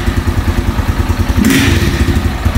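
A new exhaust on a 2022 Honda CG Start motorcycle, a single-cylinder bike with 208 km on it, thumps at a steady idle close by, with a brief louder burst partway through and no talking.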